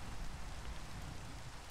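Steady, heavy rain in the video game Minecraft, a dense continuous hiss of downpour with a low rumbling undertone, moderately loud and unbroken, with no talk.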